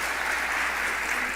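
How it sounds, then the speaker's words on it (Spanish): Audience applause fills a conference hall to welcome Dr. Juan Díaz Godino at the RELME mathematics education congress: steady, dense clapping from many hands, loud and continuous, with no voices over it. "Damos con un aplauso la bienvenida al doctor Juan Díaz Godino"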